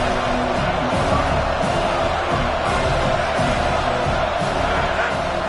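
A college football stadium crowd cheers and roars in a steady, dense wall of sound that holds loud and unbroken throughout.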